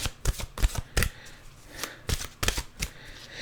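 A deck of mantra cards is shuffled by hand close up, a run of quick papery riffles and flicks in uneven bursts with brief pauses between.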